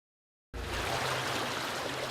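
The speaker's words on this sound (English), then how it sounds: "The sound of the creek" Creek water runs in a steady broadband rush that starts abruptly after a short silence and holds at an even, moderate level, with a faint low hum beneath it and no voices.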